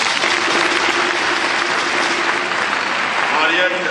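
An audience at an official launch ceremony breaks into loud, continuous applause that runs throughout while a speaker's voice carries over the clapping.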